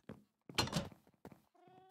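Cats in the Minecraft video game give a few brief, close meows separated by short silences, with a thin, higher, tonal mew at the end.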